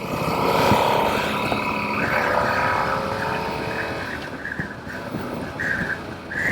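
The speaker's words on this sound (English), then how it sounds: "So this is the Super Tenere 1200" A Yamaha Super Tenere 1200 motorcycle on a demo ride gives a steady engine drone mixed with heavy wind rush, with the revs shifting slightly as it cruises along, loud and continuous throughout.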